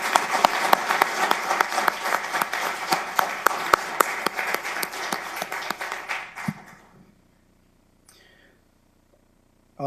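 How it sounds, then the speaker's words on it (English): A crowd applauds steadily with dense clapping for about six seconds at a detention center graduation ceremony, then it fades out into near silence. "One more round of applause."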